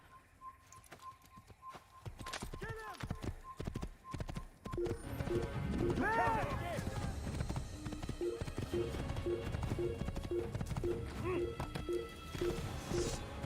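Horse hooves clip-clop steadily in the Assassin's Creed game, with several short whinnies and neighs rising over the galloping rhythm; game music and ambience sit underneath.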